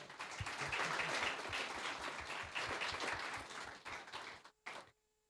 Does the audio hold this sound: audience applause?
yes